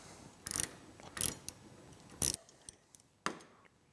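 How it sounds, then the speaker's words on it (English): Ratcheting clicks and short mechanical bursts come from a hand tool tightening the retaining bolts on adjustable risers on a Ski-Doo REV 700 snowmobile, in several separate close bursts with pauses between them. "Let's tighten up my retaining bolts."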